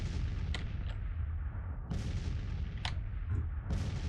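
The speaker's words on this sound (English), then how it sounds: "The cannons are gonna blast them into oblivion." Cannon artillery fires in a Grand Tactician Civil War battle, sharp booms landing every second or so, some closer and louder, over a constant low rumble of distant battle noise.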